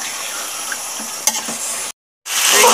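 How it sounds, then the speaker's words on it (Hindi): Marinated chicken fries in a pot for chicken korma, sizzling loudly while a spoon stirs and scrapes against the metal, broken by a brief silent gap before the frying resumes. "इसे हम इसी तरीके से 5 मिनट इसे हम भूनेंगे।"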